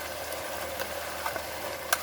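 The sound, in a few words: onion, garlic and green chilli paste sizzling in a frying pan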